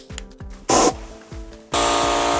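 Spray painting a primed bike frame's front triangle: a short burst of hissing spray, then a longer sustained blast, over a steady humming motor in the background.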